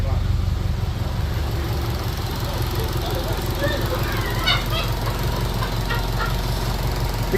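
A Honda Civic with a turbocharged K20 engine idles with a low, steady, even rumble close by, with faint voices and a few bird chirps in the background.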